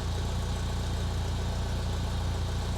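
Rebuilt Alfa Romeo 2.0L Twin Cam engine idling around 800 to 900 RPM, a steady, even low rumble and hum that runs unchanged throughout with no voices.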